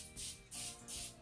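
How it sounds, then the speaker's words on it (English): Three short hissing bursts from an aerosol cooking spray can into an egg cooker, evenly spaced, close by, with no talking. "We got to spray the omelet"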